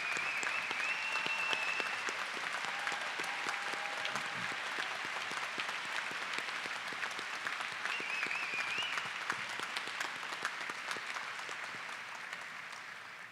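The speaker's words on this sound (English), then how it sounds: "the class can join me in giving you a round of applause" Sustained, dense applause from a large audience at a 2017 law school commencement, honoring graduates' parents, a steady roar of clapping that holds for the full stretch and eases slightly toward the end.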